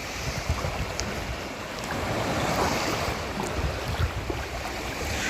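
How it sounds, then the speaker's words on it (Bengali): Light wind and waves on the Mediterranean shore in Libya make a steady broadband wash with gentle surf swells and some microphone wind rumble, no voices. "সাগর পরে বাতাস তো হালকা বাতাস আছে দেখেন"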